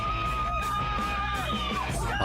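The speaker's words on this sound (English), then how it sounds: "who's screaming like that?" A person yells and screams loudly and continuously at a street protest where a car fails to stop, the raised voice harsh and strained with crowd noise beneath.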